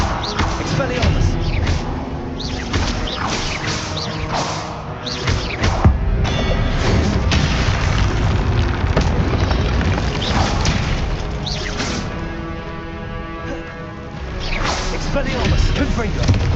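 Spell blasts in Hogwarts Legacy, Expelliarmus and Confringo cast again and again, with booming thuds, crashes and whooshing bursts over dense game music and effects, loud and continuous, while a voice speaks over the action.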